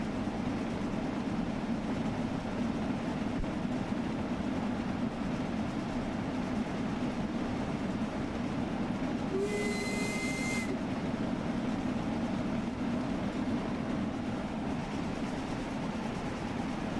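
Steam passenger train rolling along in Train Sim World 2, a steady rumbling drone of wheels and running gear with a brief higher whistle-like tone partway through.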